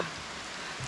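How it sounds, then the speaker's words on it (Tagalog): Heavy rain pouring down at an outdoor retreat spot, a steady dense hiss of drops hitting surfaces, loud and continuous with no talking. "Ang lakas ng ulan dito."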